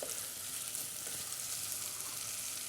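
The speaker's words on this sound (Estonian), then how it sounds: "natukene praeme ära seda kapsas, et ta võtab natukene pruuniks ennast." Cabbage frying in a pan until it browns, a steady close sizzle that continues without a break.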